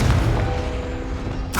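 A Confringo spell blast in the Hogwarts Legacy video game, a dense low rumbling boom that holds steady for over a second before a brighter burst at the end.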